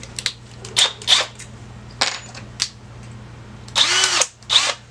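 Several short bursts of a power drill whir into metal, drilling pilot holes for rivets in an aircraft sensor bracket, separated by pauses, close and fairly loud, with no voices.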